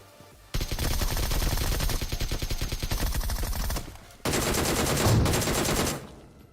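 Loud, rapid automatic gunfire from a BGMI battle royale video game fight rattles in long sustained bursts, breaks off briefly, then resumes in a second heavy burst before stopping.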